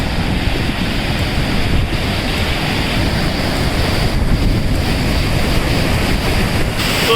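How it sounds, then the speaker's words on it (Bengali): A waterfall flowing down from two sides beside the road to Lachung in Sikkim, a loud, steady broadband rush of falling water with some wind buffeting the microphone. "সুন্দর একটা ঝর্ণা নামছে, দুদিক থেকে নামছে ঝর্ণাটা"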